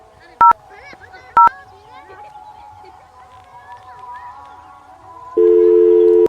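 Telephone tones while calling a phone: two short sharp beeps early on, then a steady buzzing tone near the end, all over a continuous voice or background sound.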